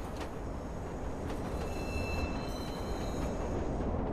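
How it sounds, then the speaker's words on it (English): A train ride in the Watch Dogs video game: a dense, steady rumble of rolling wheels with faint high squealing tones above it, and no voices. "On a train, going on a train, on a train ride."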